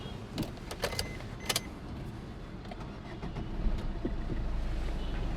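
Maruti Swift Dzire DDiS diesel engine, about 80,000 km and eight years old, starting up after a few clicks and then settling into a steady, low, quiet idle rumble recorded close by.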